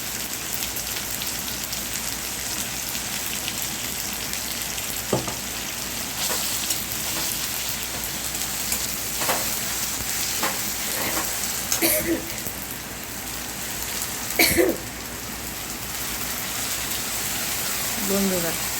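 Onions and tomatoes fry with spices in a pan, giving a continuous close, even sizzle like light rain, with occasional sharper clinks and stirring noises throughout.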